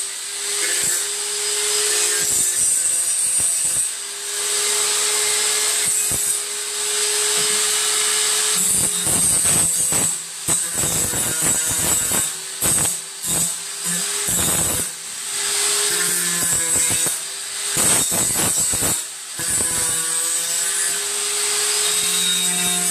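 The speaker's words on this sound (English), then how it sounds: "What we'll do is we'll use our angle grinder." Angle grinder working metal to strip off burrs, a loud, continuous high whine broken by repeated short grinding bursts and brief pauses as the disc is pressed on and lifted.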